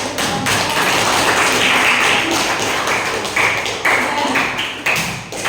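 Classroom applause during a mathematics lesson, a dense run of many hands clapping with sharp slaps and thuds, loud and close, tapering off toward the end.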